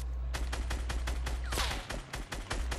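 Rapid gunfire in the video game Fortnite, a fast regular series of about a dozen sharp shots over a few seconds, fairly faint against a low steady background hum.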